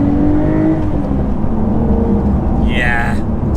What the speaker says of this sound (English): One of the things that does is it opens the valves on the exhaust